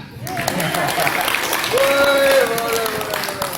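A stand-up comedy audience breaks into applause, a dense wash of clapping with cheers and whoops rising over it, voices audible within the crowd.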